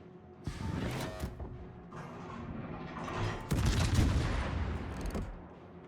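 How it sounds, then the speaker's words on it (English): Naval guns from the cruiser Petropavlovsk fire at the enemy ship Adelbert in World of Warships. Two heavy booming salvos roll out with rumbling tails, one near the start and a louder one midway, with no talk. "Start shooting the Adelbert here."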